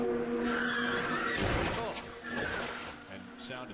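An IndyCar race car skids and slams into a SAFER barrier during a 2016 race, a loud broadband rush with a heavy impact roughly midway. Commentators talk over the noise.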